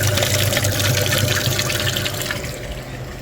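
Water rushing steadily through the cabin heater core of a VW Passat B7 2.0 TDI during a cooling-system flush, loud and close at first, then easing off slightly toward the end, with no talking.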